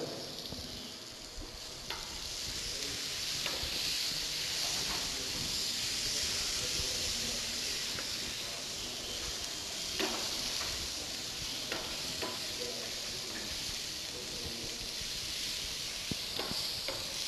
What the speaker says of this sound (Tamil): இந்த தக்காளி லைட்டாக வதங்கிட்டு இருக்கும் போதே சிறிதளவு உப்பு ஆட் பண்ணிக்கோங்க